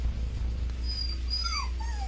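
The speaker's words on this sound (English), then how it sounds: "yes, dog, I need you. I know you need to go to the bathroom." An indoor dog wanting to go out to relieve itself whines in a few thin, high, rising whimpers, fairly faint, over a constant low hum and with no one talking.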